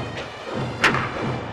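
Bat meeting ball in the baseball video game Jikkyou Powerful Pro Yakyuu '98, a single sharp crack over a faint steady background.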